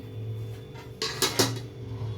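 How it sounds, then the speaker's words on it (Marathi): A few sharp metallic clanks as a pot is set down onto a flat griddle on a gas stove, three close knocks over a low steady hum. "तवा ठेवते गॅसवर आणि त्या तव्यावर टोप ठेवते."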